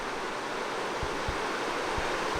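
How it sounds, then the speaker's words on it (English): A spring-fed creek rushes through small rapids, a dense, continuous hiss of running water close by with a few soft low thumps, no voices. "The creek running through a little bit of rapids."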